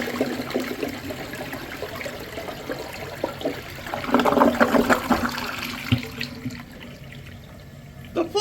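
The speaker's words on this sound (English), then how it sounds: "Let's have a look at a flush." A Crane Atlas Elite toilet flushes with a loud rush of water that swells mid-way, then drains and trickles as the tank refills, with faint voices in the background.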